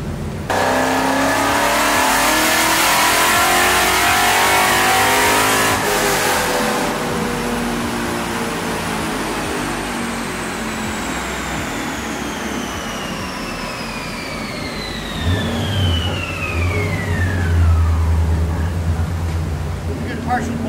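A Coyote-swapped New Edge Mustang drift car engine revs in one long full pull, its pitch sweeping upward before falling back to a low idle rumble, with voices talking over it.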